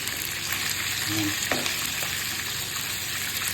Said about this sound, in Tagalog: Prito lang natin ng konti kasi lulutuin din natin to mamaya sa gata